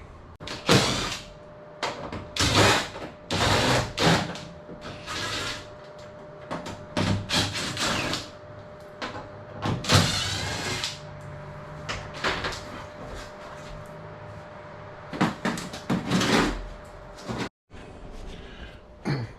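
Metal door panel being pulled off a Trane heat pump air handler during a changeout, with repeated clanks, thumps and scraping bursts in an irregular rhythm, close and fairly loud.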